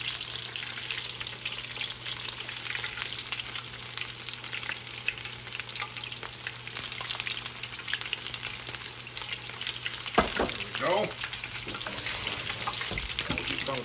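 Battered onion rings deep-fry tempura-style in a wok, with a dense, steady bubbling sizzle throughout and a few tong clicks near the end, with no talking.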